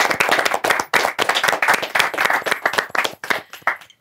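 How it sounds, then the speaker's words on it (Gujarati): A small audience claps for debut actors of the Gujarati film industry at a roundtable, a brisk burst of close, crisp handclaps from a few people with an uneven rhythm that lasts a few seconds. "એક વખત જોરદાર તાળીઓ તમારા બધા માટે."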